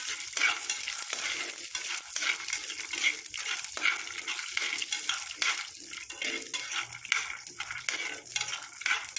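Peanuts fry in hot oil while being stirred, producing a steady crackling sizzle with repeated scraping and rattling strokes throughout.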